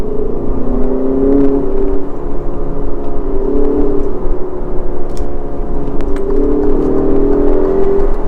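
A 2021 Alfa Romeo Giulia Veloce engine hums loudly and steadily from the cabin, its pitch swelling and easing in slow waves as it blips and rev-matches through downshifts.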